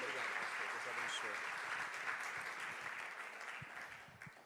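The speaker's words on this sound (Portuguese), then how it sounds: "Dá uma salva de palmas para o Senhor." Church congregation giving a round of applause, dense clapping from many people that gradually fades, with voices mixed in under it.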